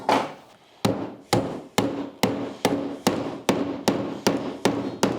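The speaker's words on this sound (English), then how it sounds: "I think it's time for the mallet." A wooden mallet strikes a wood joint in a steady series of about eleven sharp knocks, evenly spaced roughly half a second apart, close and solid, with no talking.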